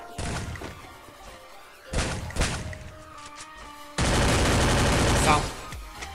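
Bursts of gunfire aimed at a player in the Free Fire battle royale game, with three loud volleys separated by short gaps. The last volley is sustained and dense, and faint speech sits underneath.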